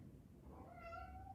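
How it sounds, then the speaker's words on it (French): A cat meows once in the background during a crochet session, a faint rising then falling cry, distant and soft over low room noise. "Désolée, derrière c'est mon chat."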